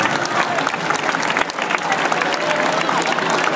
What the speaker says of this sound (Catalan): Molt bé, fantàstic, un aplaudiment.